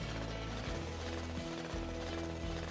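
A drill breaks up large rocks in the sci-fi survival game Mewnbase, giving a steady, dense rattling grind that hammers on continuously, loud and up close with no speech.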